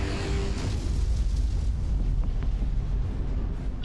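Spaceship broadsides firing in the Battlefleet Gothic video game, a steady deep rumbling barrage of overlapping booms and thuds at moderate loudness, with a few faint sharper bursts on top and no talk.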